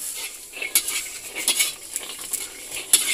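Eggplant fries in a pan while metal utensils scrape and clink against it, with a soft continuous sizzle underneath and sharp, irregular taps close by.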